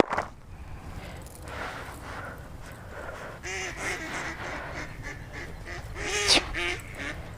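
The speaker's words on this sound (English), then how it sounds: "The ducks are laughing at the other ducks." Ducks quack and call on a rainy day at a fishing spot, a series of nasal honking calls rising through the middle and end, moderately near over rain-like background noise.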